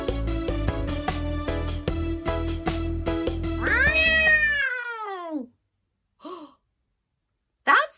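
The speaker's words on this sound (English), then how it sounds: "That sounded like Tiddles, my cat. Oh, she does not sound very happy." A pet cat meows unhappily in a children's story scene: a long run of whining, drawn-out cries over music, then a falling wail, followed by two short sharp meows after brief silences.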